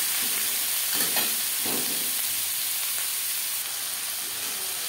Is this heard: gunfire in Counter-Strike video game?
no